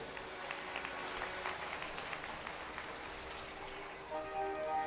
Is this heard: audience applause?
yes